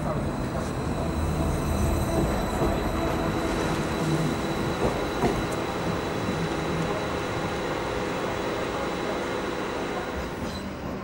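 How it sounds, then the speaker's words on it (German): A Stadler Flirt 3 electric multiple unit train rumbles along steadily with a continuous hum and rolling wheel noise, holding an even loudness close by. "Im Einsatz sind Flirt-3-Triebzüge, gebaut von Stadler."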